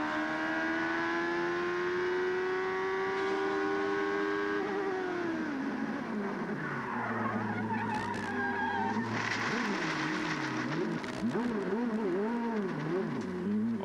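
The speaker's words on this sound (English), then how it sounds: "you can hear all the gravel come raining down on the car" Onboard a 1990 CART IndyCar at Mid-Ohio: a loud, steady engine note holds, then drops and wavers as the car slides off, with gravel clattering down on the bodywork while the engine warbles and revs unevenly.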